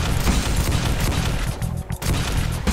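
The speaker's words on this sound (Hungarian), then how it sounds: "itt mindjárt lövöldözés lesz szerintem" Dense, rapid gunfire and booming shots from the video game Doom 2 fill a short burst, loud and continuous with brief dips, without any talking.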